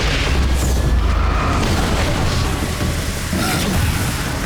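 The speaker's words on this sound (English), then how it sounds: "I've got a flare gun, there we go." A flare gun fired in the video game Alan Wake's American Nightmare, a loud booming blast amid dense, continuous game noise and rumble.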